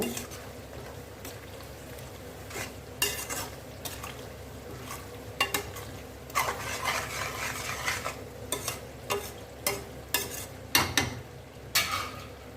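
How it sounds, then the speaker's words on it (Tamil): Mint leaves sautéing in a pan for mint pickle, a soft continuous sizzle with intermittent spoon stirs and scrapes against the pan, close and fairly quiet. "புதினா நல்லா வதங்கி கொடுக்கணும்"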